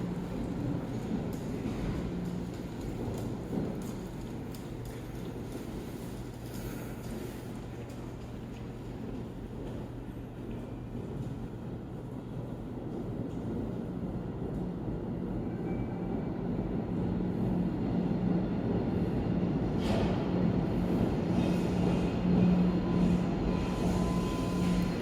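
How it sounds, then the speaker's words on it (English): Subway train arriving at Back of the Hill station on Boston's Green Line, a low rumbling rail roar that grows gradually louder and closer over about twenty-five seconds, with a faint squeal near the end. "here comes the next train"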